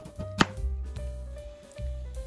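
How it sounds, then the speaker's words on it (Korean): A knife cuts potatoes on a board, a few distinct chopping knocks spaced unevenly over a low background hum, close and moderately loud. "먼저 메인 재료인 감자를 썰어주세요"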